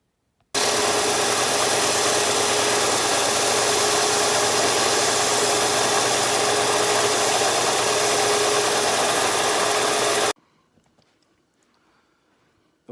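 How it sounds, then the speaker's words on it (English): Power sander working on a wooden knife handle, a loud continuous buzzing grind lasting about ten seconds before stopping abruptly, followed by faint quiet. "now it's over to the sander"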